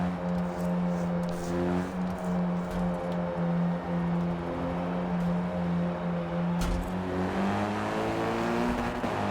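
Hot hatch cars accelerate off the line at a race start in a racing video game, a loud steady engine drone with rising revs and gear changes, several cars close together.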